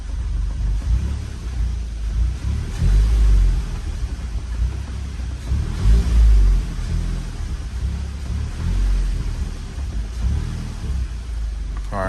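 Car engine idling during a LiquiMoly engine flush, with the throttle tapped to around 1,500 rpm; a steady low rumble swells in two or three louder surges, no talk.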